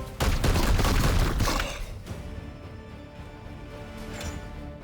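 Gunfire in the Warhammer 40k: Chaos Gate - Daemonhunters video game: a short, loud burst of rapid shots at the start, then a lower rumbling tail fading into quieter ambience.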